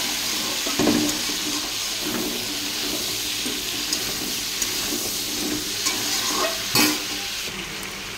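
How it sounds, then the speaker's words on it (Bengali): Papaya, beans, eggplant and potatoes added to oil tempered with panch phoron and dried red chillies, frying in a wok with a loud continuous hiss and a few sharp stirring scrapes up close. "5 ফোড়ন শুকনো লঙ্কা ফোড়ন দিয়ে সবজিটা দিয়ে দিলাম"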